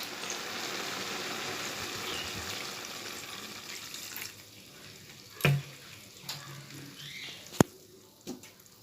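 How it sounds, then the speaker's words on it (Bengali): Water is poured into a cooking pan of ash gourd curry with prawns, a steady hiss of pouring and sizzling for about four seconds, followed by quieter clinks and small kitchen knocks. "এবার একটু জল দিয়ে দেবো।"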